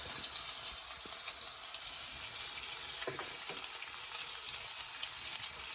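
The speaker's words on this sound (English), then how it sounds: "Let it saute a bit." Onion, garlic and green chilies sauté in a pan for chowmein, giving a bright, continuous hiss of frying with a couple of light stirring scrapes midway.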